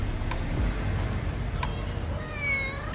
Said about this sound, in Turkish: mahallede arada bir yemek verdiğim kedi